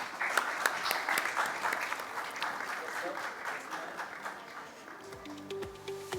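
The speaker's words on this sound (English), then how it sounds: "Let's have a round of applause for our experts" An audience applauds experts at a reproductive science panel event, steady dense clapping filling the hall for several seconds before fading, with a low musical tone entering near the end.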